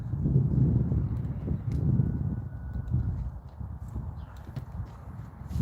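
A horse being moved along at a rescue yard as it is readied for saddling, its hooves giving a steady, fairly close clip-clop that runs through the whole stretch with low background rumble.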